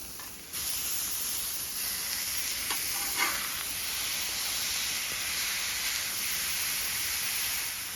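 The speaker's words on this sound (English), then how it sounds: "While the meat is cooking" Cheesesteak meat seasoned with salt and pepper sizzles on a hot, lightly oiled flat top griddle, a loud, continuous, close-up hiss that holds steady throughout with a faint scrape in the middle.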